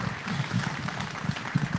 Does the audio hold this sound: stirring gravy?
no